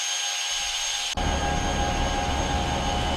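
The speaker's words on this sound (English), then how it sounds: "That's just a little piece of helicopter." Chopped piece of helicopter sound recorded on a frozen lake: a short quiet lead-in, then a sudden cut into a dense, steady rotor and engine roar that holds at even loudness.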